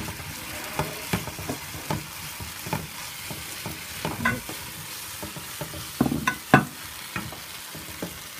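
Crispy chicken strips being stir-fried in a pan with sweet and sour orange and chilli sauce, a soft steady sizzle broken by repeated scraping stirs and clinks, close and alone with no voices.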